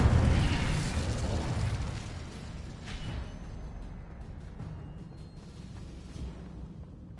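A burst of the Incendio fire spell in Hogwarts Legacy, a loud whooshing blast that starts strong and then trails off into a rumbling, crackling fade over several seconds, with no voices.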